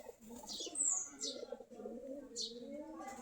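Native Giribaz pigeons coo in a low, faint, continuous murmur, with a few brief higher chirps over it and a possible flutter of wings.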